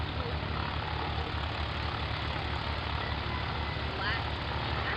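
Small aircraft at a flour bombing competition during a fly-in at Valdez, a steady broad engine and propeller drone that holds at the same level throughout, with a voice talking over it.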